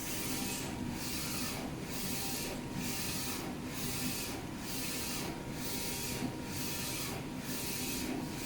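A DTF printer runs a test print, its print head sweeping back and forth in a steady rhythm of about one pass per second over a constant mechanical hiss, close and continuous with no talking.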